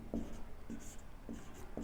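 A pen scratches on a paper map as numbers and labels are written, making faint, quick, close strokes in short bursts at roughly half-second intervals against a quiet room.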